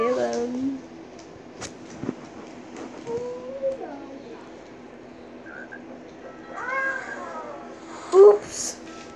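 Several short cat meows sound from the mobile video game Crossy Road, scattered between people chatting nearby.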